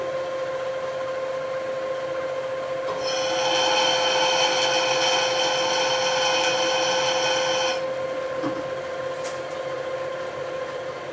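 A power drill whines steadily for several seconds while drilling out a hole in a 1941 Harley-Davidson WL flathead engine part, its tonal motor hum rising, then cuts off, with a low mechanical drone continuing underneath.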